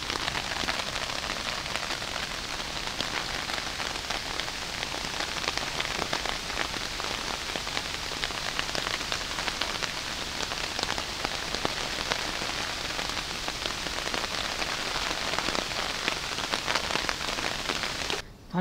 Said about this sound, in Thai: ตอนนี้หุงข้าวยังไม่ทันเสร็จดีครับเพื่อนๆฝนตกซะแล้วครับ